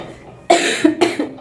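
Two sharp coughs in quick succession, close and loud, after a moment of quiet.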